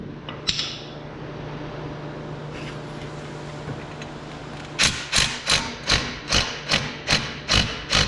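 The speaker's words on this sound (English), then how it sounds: "just take your hammer and just smack where the bolt is" A hammer smacks a rusted brake caliper bolt on a 2015 Dodge Dart: after several seconds of low background hum, about ten sharp, loud, close strikes land in a quick, steady rhythm.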